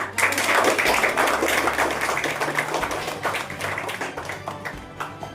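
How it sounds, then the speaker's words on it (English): An audience at a school results celebration applauds students' exam achievements; brisk, dense clapping starts strong and gradually thins and fades, with a few distinct claps near the end. "Let's have a round of applause for that."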